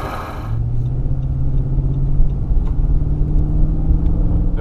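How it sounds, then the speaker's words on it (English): A Nissan Titan XD pickup truck idling with a diesel-like tone, a steady low rumble with a throbbing mechanical beat, close and continuous without any talk. "when it sits and idles, it sounds like a diesel"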